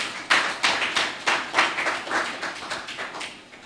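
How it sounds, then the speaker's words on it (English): Scattered audience clapping at an expo event in Cape Coast, heard as a sparse run of distinct, fairly soft claps with small bursts spaced unevenly. "Let's give a hand of applause to them, please."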